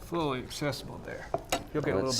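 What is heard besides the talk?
No everyday noises stand out.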